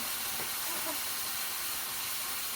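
Honey-soy-garlic shrimps sizzling in a pan just after flipping, a steady bright hiss and crackle holding evenly throughout, fairly close.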